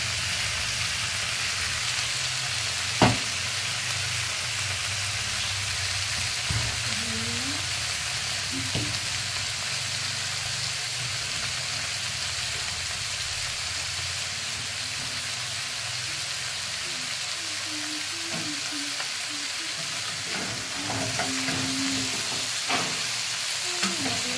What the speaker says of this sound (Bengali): মাছটা প্রায় ভাজা হয়ে গেছে